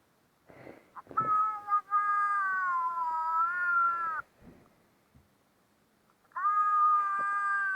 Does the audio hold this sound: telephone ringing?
no